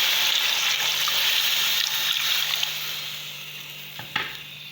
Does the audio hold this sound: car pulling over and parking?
no